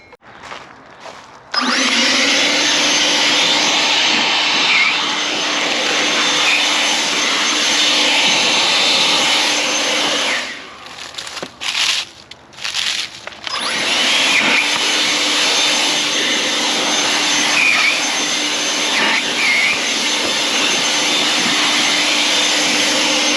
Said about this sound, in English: I'm gonna clean all the leaves down in here with my blower